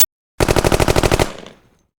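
A 6x45 rifle, a .223 case necked up to 6mm, fired at a range with a 200-yard target. One sharp report opens a dense run of rapid, evenly spaced bursts that fade into a trailing echo, loud and close with no talk.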